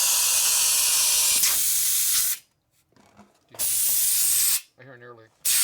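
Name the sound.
air leaking from motorcycle inner tube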